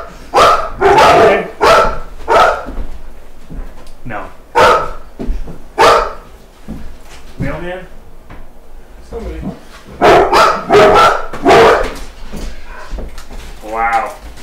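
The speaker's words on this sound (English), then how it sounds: "I bet you dogs are going nuts." Dogs bark in short loud bursts over several seconds, mixed in with people talking close by.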